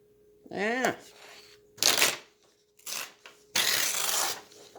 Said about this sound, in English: Ooh, that was a nice tear.